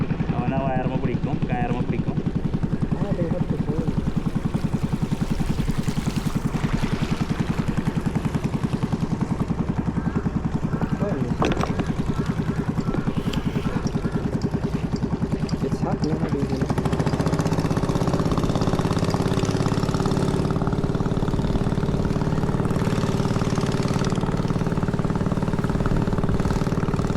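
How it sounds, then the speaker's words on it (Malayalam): A motorboat engine runs steadily on the river near Pagsanjan Falls, a close, continuous chugging drone that holds throughout while people talk over it. "ഈ വരുന്ന ബോട്ട് ഇതാ, ഇതാണ് ഇതിലാണ് മോട്ടർ."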